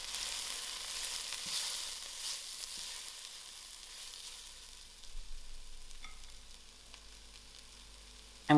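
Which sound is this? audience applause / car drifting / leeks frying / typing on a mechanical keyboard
leeks frying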